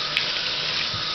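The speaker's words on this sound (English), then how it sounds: "rinse her shell off, making sure not to get any soap into her eyes" Lukewarm water runs in a steady, close stream to rinse a pet turtle's shell.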